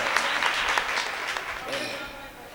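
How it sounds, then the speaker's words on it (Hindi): Loud, dense applause from a mushaira audience in Burhanpur, a steady wash of clapping hands filling the hall for the full stretch, with no voices rising above it. "जोरदार ताली बजाते हैं,"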